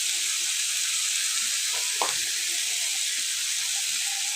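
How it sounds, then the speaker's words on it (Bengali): Spice paste and tomato sauté in a pan for a fish curry, giving a continuous bright hiss of sizzling with a brief stirring scrape partway through. "সুন্দর করে মশলাটা কষিয়ে নেব টমেটোর সাথে"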